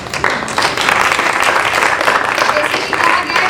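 Audience applause at an open mic poetry event, dense clapping that swells quickly and holds loud and steady.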